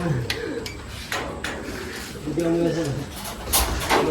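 Racing pigeons coo nearby with flutters and light knocks as they arrive and settle in at their loft after a 116 km training flight; a person speaks softly in the background.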